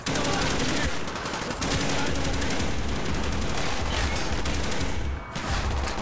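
Light machine gun firing in Call of Duty: Black Ops, a sustained dense burst of loud rapid gunfire filling the whole stretch with a brief dip near the end.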